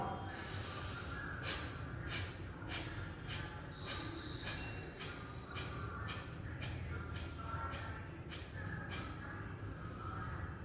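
Forceful yoga exhalations with the stomach pumping in and out, about a dozen short sharp nasal puffs in a steady rhythm, close but soft over a constant background hum, with no talking.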